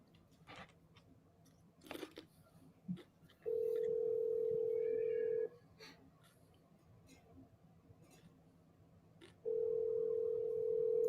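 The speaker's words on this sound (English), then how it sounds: "Yeah, hear it ringing." An outgoing phone call rings on the line with two long steady ringback tones separated by a pause, over a faint noisy background with light handling sounds.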